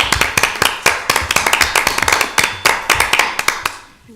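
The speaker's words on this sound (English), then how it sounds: "Would a round of applause for your team be appropriate?" A small group at a county board of commissioners meeting gives a round of applause for the team, a sparse handful of distinct, close claps in an irregular rhythm that taper off.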